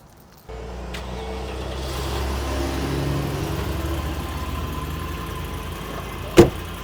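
A restored Land Rover Discovery 2 engine idles close by at a steady, even hum, with a brief sharp knock near the end.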